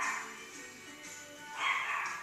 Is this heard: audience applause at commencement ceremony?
no